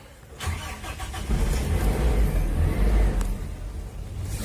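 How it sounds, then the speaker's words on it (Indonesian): A Toyota Kijang converted to run on CNG strains through a heavy, labored starter crank. The engine churns steadily and loudly for about four seconds after a brief quiet lead-in. "Ini lur, starternya berat lur."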